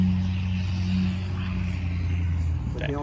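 Barn-find Mach 1 Mustang engine refusing to idle down, a steady low droning hum at elevated idle, close and constant, with a brief mechanical rattle near the end.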